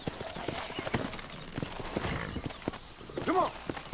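Horse hooves clip-clop at a steady walking pace in the Red Dead Redemption video game, with a brief whinny near the end, all mixed under game sound and a voice talking.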